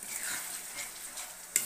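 Spice paste frying in oil for a Bengali crab curry gives a steady, close sizzle, with a brief stirring scrape near the end.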